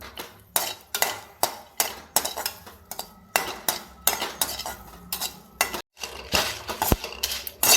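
Crushed garlic and coriander seeds are stirred and roasted in a metal pan while making rasam powder. A spoon scrapes and clinks against the pan in rapid, uneven strokes over a faint dry crackle.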